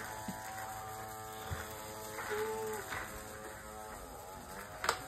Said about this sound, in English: going to use her Mouse vacuum to vacuum her floor